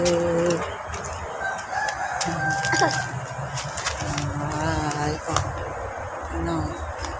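A rooster crows amid clucking chickens, with a faint voice or two and scattered rustling and clicks nearby.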